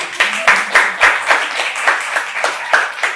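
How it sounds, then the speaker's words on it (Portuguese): A short round of rhythmic hand clapping welcoming a guest at a class, steady and fairly close, with claps landing at an even pace. "palmas!"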